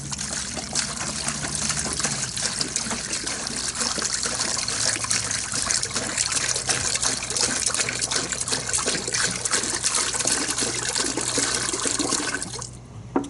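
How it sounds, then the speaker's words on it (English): Steady pouring of one gallon of distilled water splashing into a bucket, a continuous full gush that runs for several seconds before tapering off at the end. "I'm going to put 1 gallon of distilled water in here."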